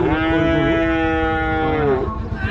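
Cattle at a livestock market in Rajshahi, Bangladesh, one long, loud, close moo held for about two seconds, with crowd murmur behind it.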